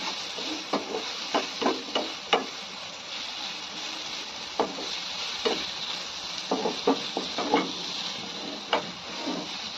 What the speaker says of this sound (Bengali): এবার এটা সুন্দর করে লাল করে ভেজে নিই